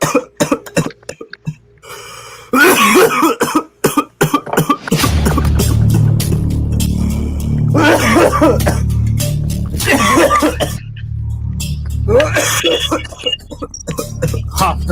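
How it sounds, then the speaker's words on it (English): A person coughs in several loud, harsh bursts close by, mixed with chuckling and laughter from others, with brief talk between fits. "That was my cough."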